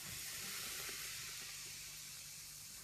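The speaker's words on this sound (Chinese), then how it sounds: "50克玉米面，放入少许的盐，加入60克烧热的油" Hot oil poured onto cornmeal and a little salt for a flatbread layering paste, giving a steady, close sizzling hiss that holds evenly and fades slightly toward the end, with no voices.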